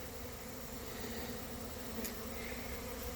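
Honey bees robbing a hive make a dense, steady buzzing drone, many insects humming together close by without pause.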